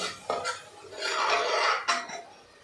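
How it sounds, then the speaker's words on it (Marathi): A spoon scrapes and stirs finely ground masala paste in oil in a pan for Konkan-style val birda bhaji, in a few short rasping strokes with a longer stir in the middle, with no talking. "आता हे वाटण आपण तेल सुटेपर्यंत परतून घ्यायचं आहे"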